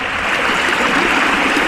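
Water rushes and gurgles steadily through a long-hose gold-prospecting setup, a loud, continuous flowing wash close by with no pauses or voices.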